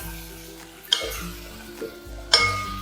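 Garlic paste and turmeric fry in a pan for a lentil and greens curry while a spoon stirs them, giving a soft sizzle broken by a few scraping clinks against the pan. Close, with no talk.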